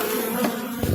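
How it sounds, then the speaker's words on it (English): Bees buzz in a dense, steady hum around an open beehive holding a little brood and no honey, heard close and continuous without speech. "there's lots of bees"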